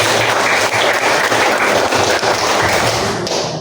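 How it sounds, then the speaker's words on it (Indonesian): Loud audience applause at a student session, sustained clapping with some thumping, filling the whole stretch and fading slightly at the end. "Yang semangat tepuk tangannya. Tepuk tangan lagi."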